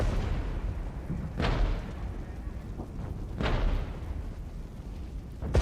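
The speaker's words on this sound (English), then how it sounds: "This artillery is constant." Constant artillery fire in the Regiments video game, sounding as a few sharp distant booms spaced a couple of seconds apart over a low continuous battlefield rumble, fairly faint overall.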